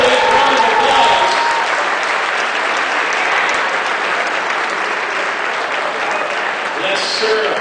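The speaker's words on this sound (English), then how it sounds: "Big round of applause" Sustained, loud round of applause from a crowd at a charity dog auction, dense clapping filling the room steadily, with some voices and cheers mixed in underneath.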